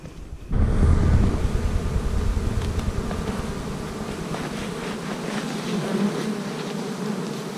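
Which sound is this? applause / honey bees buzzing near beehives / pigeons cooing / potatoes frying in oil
honey bees buzzing near beehives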